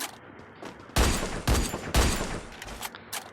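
Gunshots in the Free Fire battle royale game, three heavy, loud blasts about half a second apart followed by a few lighter shots, with no talking.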